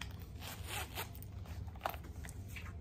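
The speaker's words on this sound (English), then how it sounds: "You see how fast it zips?" Zipper of a Coach long zip wallet pulled closed quickly, a close, faint scratchy rasp running under low room noise with a brief crisp click near the end.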